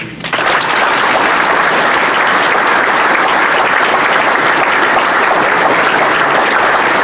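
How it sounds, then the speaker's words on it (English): A full room of people at a sheriff's breakfast honoring Special Olympics athletes bursts into loud, sustained applause, dense and steady from a sharp start through the whole stretch, with no voices standing out. "A round of applause."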